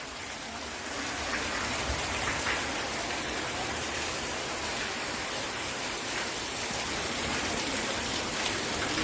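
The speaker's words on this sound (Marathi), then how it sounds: "एवढा पाऊस पडतोय आता." Heavy monsoon rain falls in a steady, dense wash near a farm setting, with closer drips and splashes scattered through the constant roar and nobody speaking.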